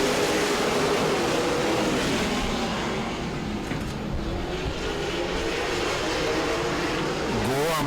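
Race cars roar off the green flag at a weekly short-track event, a dense, loud wash of engines accelerating together, with a commentator talking over the noise.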